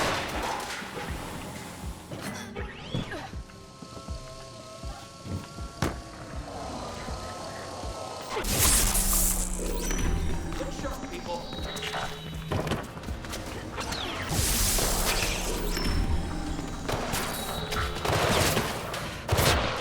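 Enemies shooting at the player in Mirror's Edge Catalyst: bursts of rapid gunfire and sharp cracks among game sound effects and music, loud and close, with quieter stretches early on.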